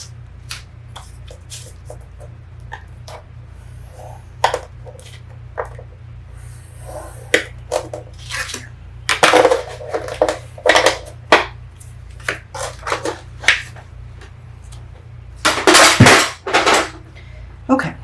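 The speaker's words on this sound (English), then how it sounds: "score them in half lengthwise" A scoring tool is drawn across paper to crease it in half lengthwise for a crafted flip book, heard as scattered taps, scrapes and sharp clicks, some loud, over a steady low hum, with people talking at times.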